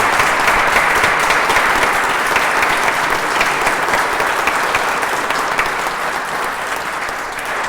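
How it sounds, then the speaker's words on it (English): A City Hall crowd at a traveling museum event claps steadily for honorees, a thick, even wash of applause that holds for several seconds without pause. "Could you please just clap for those that I had mentioned"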